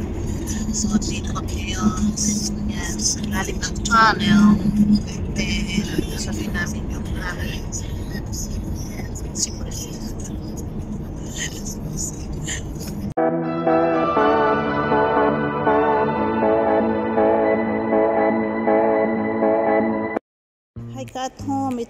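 A car drives through a long, newly built tunnel in Sydney, a steady loud road rumble and engine drone that shifts in tone partway through, with people talking over it.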